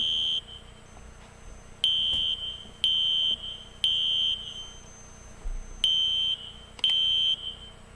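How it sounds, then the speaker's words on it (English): Fire alarm set off from a pull station, sounding a series of loud, high electronic beeps in roughly one-second bursts with short gaps, with faint clicks between and no talking. "let's go ahead and pull it and see the alarm go off"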